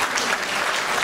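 A short, full burst of audience clapping for two paintings at a charity art auction, steady and dense throughout.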